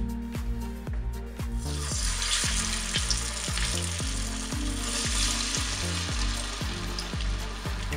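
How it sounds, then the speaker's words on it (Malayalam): Mint vada (pudina vada) frying in hot oil, a steady close hiss of bubbling sizzle running continuously, with a faint rhythmic ticking underneath and no voices. "ഇനി നമുക്കിതൊന്ന് എണ്ണയിലൊന്ന് ഫ്രൈ ചെയ്തെടുക്കാം."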